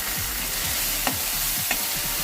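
Ginger, garlic and green chili paste with asafoetida fries in a pan. A dense, steady sizzle fills the clip, with two sharp scrapes as a spoon stirs it, and no voices.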